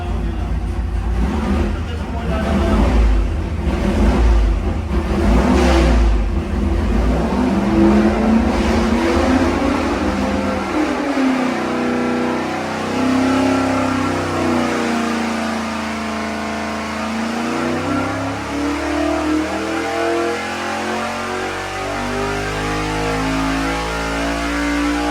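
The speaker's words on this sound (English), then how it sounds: "It does seem to sound cleaner when you rev it." A 434 small-block Chevy nitrous engine on a carburetor revs repeatedly, loud throttle blips rising and falling over a steady idle, then settling into a wavering, surging rev for a sustained stretch; voices talk faintly at times.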